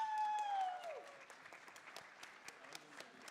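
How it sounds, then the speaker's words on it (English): Scattered clapping breaks out at a hackathon closing ceremony, starting after a brief tonal sweep and continuing as sparse, uneven claps from a moderate crowd, fairly faint and thin. "Can we get a round of applause?"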